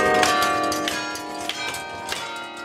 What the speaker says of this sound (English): When Smith plays, the bells can be heard throughout the neighborhood.